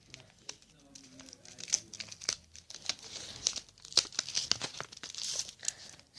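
A wrapper on an animal-shaped milk chocolate bar is opened by hand, making close, crisp crinkling and tearing in quick irregular bursts that grow busier toward the end, with a brief voice early on.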